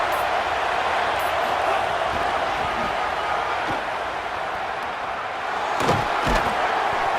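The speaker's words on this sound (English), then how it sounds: "this crowd is fired up. Listen to this noise here." Fired-up college football stadium crowd roaring in a continuous dense wash of noise, with a few thumps and bangs near the end.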